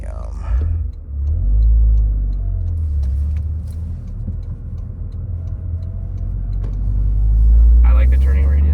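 A 2024 Toyota GR Corolla's engine and turbo rumble loudly from inside the cabin, swelling with acceleration near the start and again toward the end, while people talk over it.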